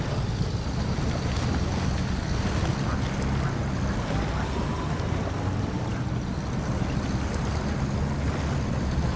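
A truck in SnowRunner drives through water, making a steady, loud rushing and splashing wash layered over a low rumble that continues without a break.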